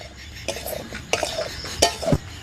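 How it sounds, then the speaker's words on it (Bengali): Curry being stirred in a pan gives a few separate clinks and scrapes of a utensil against metal over a faint background hiss, with no voices. "নাও তরকারিটা নাড়ো।"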